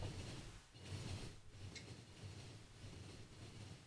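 Train rolling along rails in the video game Factorio, a steady low rumble with soft hiss and faint clicking that holds at an even, moderate level throughout with no talk.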